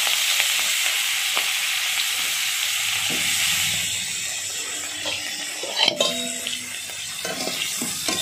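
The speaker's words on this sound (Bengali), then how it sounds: "এবার কাঁকড়াগুলো আমি ভাজা ভাজা করে নিচ্ছি।" Sea crabs coated in turmeric fry in hot oil in a kadai, a loud steady hiss and sizzle that eases slightly partway through, with a few clinks of a utensil near the end and no speech.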